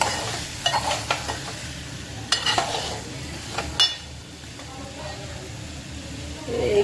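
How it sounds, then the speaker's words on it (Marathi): Spiced eggplant (brinjal) dry curry being stir-fried in a pan, with a low steady sizzle and several sharp scrapes and clinks of a spoon against the pan, most of them in the first four seconds. "टाकून त्याला व्यवस्थित परतून घेऊया आधी परतून घ्यायला सावकाशपणे"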